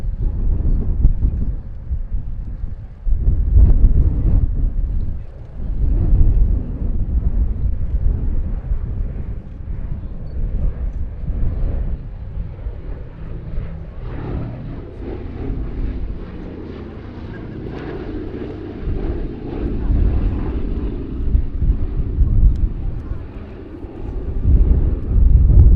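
A Boeing B-17G Flying Fortress, Sally B, flies at the Duxford Battle of Britain airshow, a heavy, droning piston-engine rumble that holds steady throughout, mixed with wind buffeting on the microphone.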